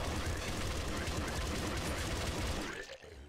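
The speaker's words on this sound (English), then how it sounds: "we're gonna switch to our machine gun and put some hits to him." Rapid machine gun fire in the top-down shooter Nuclear Throne, a dense, continuous loud burst of shots that cuts off near the end, with a voice talking over it.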